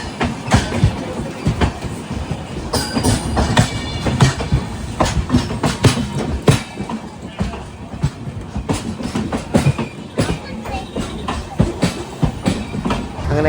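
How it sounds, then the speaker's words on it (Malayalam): The Vaigai Superfast Express from Chennai to Madurai rolls into a station with loud, continuous rumbling and rhythmic clickety-clack of wheels over rail joints, punctuated by sharp clanks throughout. "ചെന്നൈക്കോർ നിന്നും മധുരയ്ക്ക് പോകുന്ന വൈഗൈ സൂപ്പർ ഫാസ്റ്റാണ് ഈ ഇറങ്ങി വരുന്നത്"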